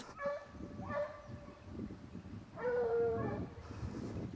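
A hunting dog whimpers before release for a boar hunt in the Auvergne countryside, high thin whines in short bursts, one longer cry later, over outdoor rustling and muffled background voices.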